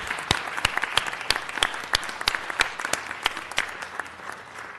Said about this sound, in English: give Keith another round of applause.